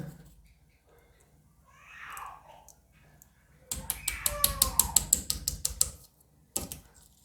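A washing machine part clogged with debris is knocked against a sink, producing a rapid burst of sharp, close clicking taps for about two seconds, then one more brief knock after a pause.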